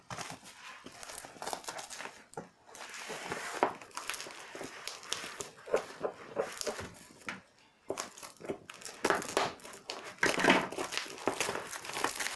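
Packaging for a desk microphone stand is torn and crinkled open, with a knife used to slit it, giving dense crackling, rustling and crushing bursts with brief pauses, close and fairly loud.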